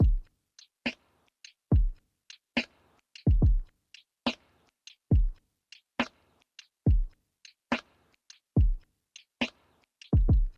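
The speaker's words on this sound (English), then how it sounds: "next let's have a look at the drums" A sparse, dry lo-fi drum loop with punchy kicks, crisp snares and ticking hi-hats in a laid-back, steady groove, played alone.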